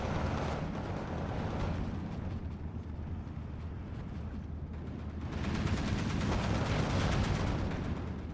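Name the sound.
machine gun fire in Steel Division 2 video game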